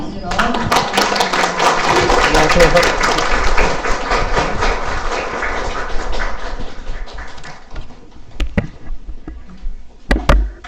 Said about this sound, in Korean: 환영의 박수로